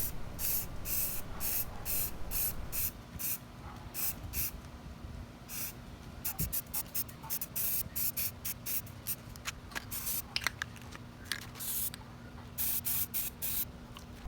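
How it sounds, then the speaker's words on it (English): Spray paint can coating a rusty metal cat figure black, a long series of short hissing bursts in an uneven rhythm, close and fairly quiet, with a faint steady hum underneath. "I'm going to spray paint it black because that helps the bleed through not to happen"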